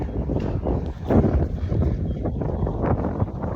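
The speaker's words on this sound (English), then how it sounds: "It's pretty windy out here today." Gusty wind buffets the microphone with a rough, rumbling roar that rises and falls, loud and close, with no voices.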